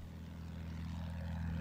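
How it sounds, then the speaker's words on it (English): A ground attack plane's engine in the video game Battlefield 1 on the Zeebrugge map: a steady, low propeller drone with a throbbing hum, fairly close and continuous, with no talk. "I got a ground attack plane."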